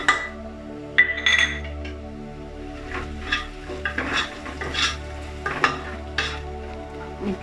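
Onions browned in a pan get stirred with chilli powder for a spiced gravy, the spoon scraping and clinking in irregular strokes over a steady close sizzle, with no one talking.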